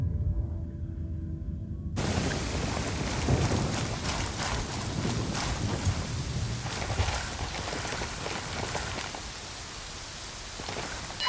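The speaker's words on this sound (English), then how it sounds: "The sky over the river was cloudy. It was going to rain." Steady rain hisses across the scene in the video game Ghost Recon Wildlands, starting abruptly and continuing as a soft, even wash of drops at moderate loudness.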